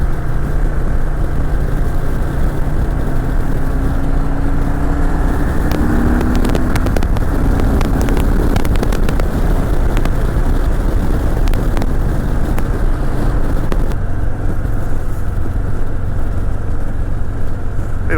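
A 2023 Anniversary Edition Harley-Davidson Fat Boy 114 rides along with a loud, continuous engine rumble and some wind noise. The note rises briefly midway and then settles back into a steady drone.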